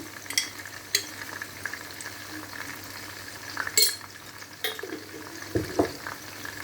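Soft frying sizzle of tomatoes and chilies in a pan with occasional stirring scrapes and light clinks of a utensil, close by, no voices.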